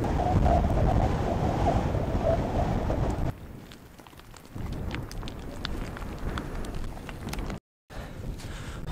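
Strong mountain wind roaring against the microphone, loud at first, then easing and gusting again, with a brief dropout near the end.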